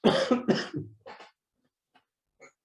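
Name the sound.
cough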